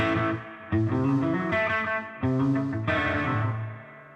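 Electric guitar chords ringing out with echoing delay and a wash of reverb, each strum swelling and fading into the next.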